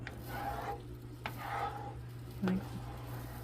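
Eggs being scrambled in an oiled pan, a faint low sizzle with a few soft scraping strokes of a utensil against the pan over a steady background hum.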